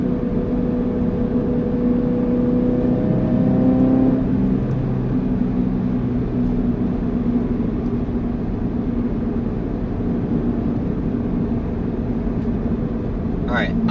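A Toyota GR86 drives and accelerates, a steady engine drone with a rising rev early on, heard from inside under continuous moderate road noise while a person talks.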